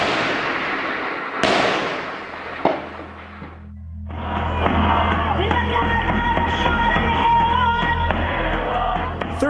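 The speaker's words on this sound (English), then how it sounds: "They are shooting at everyone," Sharp bangs and cracks of gunfire in a Syrian war zone, a few loud reports early on, then a dense crackling din with a low rumble, with crowd noise mixed in.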